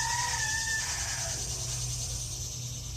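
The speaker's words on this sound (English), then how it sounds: "See, my roosters are crowing quite a bit today." Roosters crowing at a backyard bonsai workshop where a concrete slab is being made, with one drawn-out crow early on over a steady outdoor hum, followed by quieter background noise.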